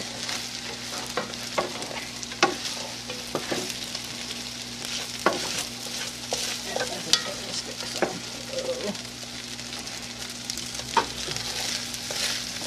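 Fried rice stirred in a pan with soy sauce, repeated sharp spatula scrapes and clinks against the metal over a continuous sizzle and a steady background hum.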